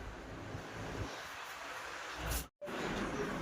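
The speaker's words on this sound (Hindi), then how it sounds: "हवा चल रही है" Soft wind rushes steadily outdoors, with faint buffeting against the microphone and a brief dropout near the end.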